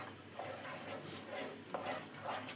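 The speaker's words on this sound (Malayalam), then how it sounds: "മീഡിയം ഫ്ലെയിമിൽ വെച്ചിട്ട് നമുക്കിതൊന്ന് എല്ലാം കൂടെ ഒന്ന് മിക്സ് ചെയ്തെടുക്കാം" Banana payasam with jaggery syrup being stirred in a pot on a medium flame, a soft, quiet sizzle with gentle, regular stirring swishes and faint scrapes.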